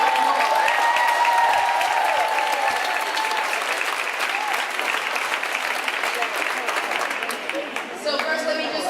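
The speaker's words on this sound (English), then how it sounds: "So give them a round of applause" A large audience claps a full round of applause at a women's month event, a dense steady wash of hands throughout, with some voices mixed in and tapering slightly near the end.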